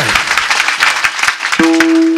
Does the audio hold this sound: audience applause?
yes